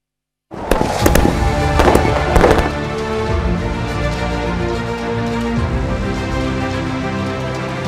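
Diwali firecrackers going off in Delhi: after a moment of silence, a burst of sharp, loud cracks and bangs in quick succession, followed by a dense, continuous crackling rumble of fireworks.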